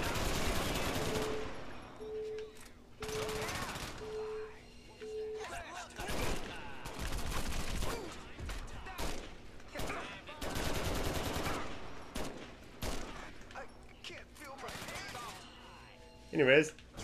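Gunfire in the video game Crackdown comes in repeated loud bursts and single shots, broken by pauses, with someone talking between and over the shooting.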